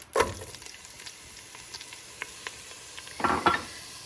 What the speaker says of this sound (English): I'm going to add my veggies to it